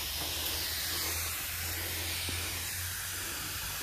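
A hand sprayer mists fungicide onto green bean plants in a home garden, a steady, close, continuous hiss that runs unbroken throughout.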